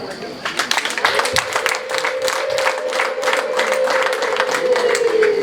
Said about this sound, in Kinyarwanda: Nibabongera amashyi